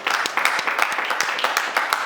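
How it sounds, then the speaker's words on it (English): A small book club audience claps in a quick, uneven rhythm of distinct nearby handclaps that stay fairly loud and steady for the whole stretch. "I would need another round of applause"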